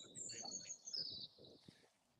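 Birds chirping outdoors behind a person's voice on a video call with a poor connection, the bright, repeated high tweets carrying steadily under the talk.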